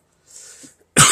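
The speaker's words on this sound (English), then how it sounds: "Still have a little bit of a cough, but that's it." A single sharp, loud cough from a man recovering from a chest cold bursts out near the end, after a faint breathy throat noise.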